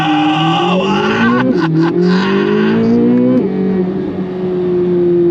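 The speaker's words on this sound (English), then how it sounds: "That Valvetronic exhaust sounds glorious." A modified Corvette C8 Z06 launches under launch control, its flat-plane V8 exhaust roaring loud and close as the revs climb steadily, with two quick gear shifts breaking the rising howl.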